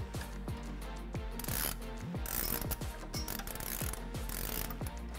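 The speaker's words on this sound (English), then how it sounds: "Now we're gonna go ahead and tighten down the lower shock bolts." A wrench tightens the lower shock bolts on a Jeep JL Wrangler during a suspension lift install, making quick, evenly spaced ratcheting clicks close by, repeating steadily with metallic mechanism rattles and no talk.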